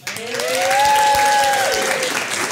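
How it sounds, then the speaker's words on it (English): Wedding guests break into a short burst of applause, with a high whooping cheer riding over the clapping for a couple of seconds. "can I get a big round of applause to Mr. and Mrs. Darnley?"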